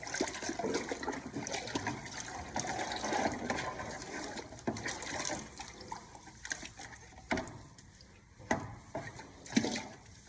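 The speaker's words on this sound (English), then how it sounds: "What I can do is also, I can break this apart and I can rinse it right here" Running water from a tap rinsing detachable parts of a half-horsepower Venquest pottery wheel, a steady splashing flow with occasional knocks and handling sounds, close and moderately quiet.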